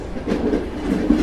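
A running train rumbles steadily with a rhythmic clickety-clack of wheels on rails, a loud continuous sound effect in an animated Bengali horror story, with no voices.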